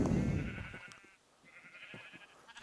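Sheep bleating in Minecraft, two drawn-out wavering bleats over low rumbling background noise, moderately faint with no speech.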